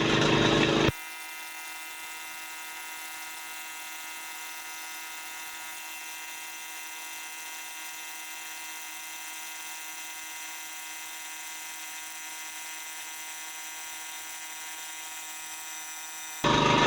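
A small air compressor runs steadily as it builds pressure for a homemade air blaster, a continuous high whine with dense tonal hum, close and loud, cutting in abruptly and stopping near the end.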